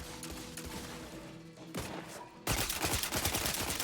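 A turret in the video game The Outer Worlds 2 fires in a rapid, dense burst of shots that grows suddenly louder partway through, layered over steady game sound effects with no voices.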